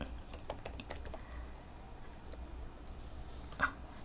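Light, quick keystrokes on a computer keyboard while web code is being edited, a soft irregular patter of clicks at close range with a few brief pauses and no talking.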